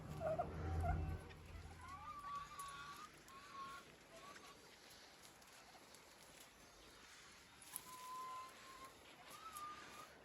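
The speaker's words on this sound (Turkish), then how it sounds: "Arkadaşlar bunlar yeni tavuk." Chickens newly brought in, clucking and calling in short tonal bursts, fairly faint against a steady outdoor background hiss, with a louder rustle or thump near the start.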